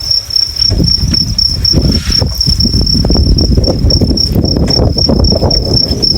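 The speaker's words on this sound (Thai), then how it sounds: "นี่คือฟาร์มจิ้งหรีดเงินล้านนะครับ" Crickets on a Thai cricket farm chirp in a dense, steady, high-pitched trill that runs loud and unbroken throughout, with soft rustling and patter beneath and no talking.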